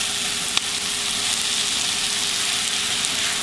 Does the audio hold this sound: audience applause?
no